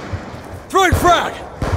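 A frag grenade goes off in a first-person shooter video game, a single sharp booming burst that rolls on for about half a second, followed by a fainter thud, with a voice talking briefly nearby.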